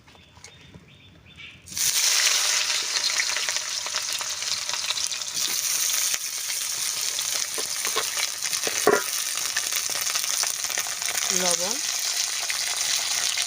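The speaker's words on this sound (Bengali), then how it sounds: "কড়াটা গরম হয়ে গেছে, কড়াতে দিয়ে দেবো সরষের তেল। উচ্ছেগুলো সুন্দর করে ভেজে নেব।" Bitter gourd hits hot mustard oil in a pan with a sudden loud sizzle that continues as a steady crackling fry, with brief stirring clatters and a voice speaking softly over it.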